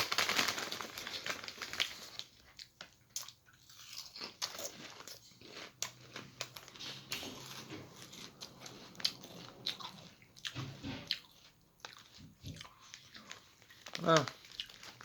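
Lay's Cheddar Jalapeno potato chips crunched and chewed close to the mic in bursts of bites, with bag crinkling and a voice talking between mouthfuls.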